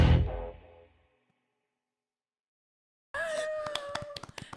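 A comedy podcast host claps hands in a short, close burst of uneven claps that starts abruptly after a fading tone and a few seconds of silence.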